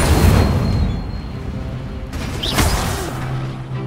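The Incendio fire spell being cast in Hogwarts Legacy, a loud whooshing burst with a boom-like attack, then crackling rumble and a short chime-like magic effect over ongoing game sound.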